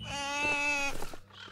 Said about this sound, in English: There you are, demon goat.